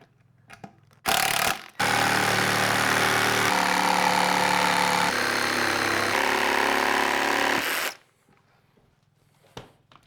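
Electric jigsaw cutting a window into a wooden Flow Hive super box, a loud close buzzing rasp of the blade that starts briefly, pauses, then runs steadily for about six seconds before stopping.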